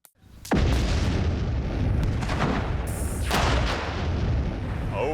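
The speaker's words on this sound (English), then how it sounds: "The dynamite explosion was, well, dynamite." Fifty pounds of dynamite detonated in an outdoor test, one sudden massive blast after a moment of quiet, then a long roaring rumble of debris and echo that swells again before slowly fading.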